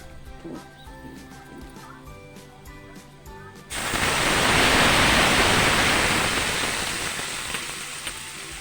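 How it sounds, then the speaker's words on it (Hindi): A paste of tomato, ginger, garlic and green chili hits hot oil in a pan, with a sudden loud, steady sizzle that bursts in midway and then holds strong, fading only slightly. "अब मैं इसमें डालूंगी टमाटर, अदरक, लहसुन और हरी मिर्च का पेस्ट मैं अब इसमें डाल रही हूँ"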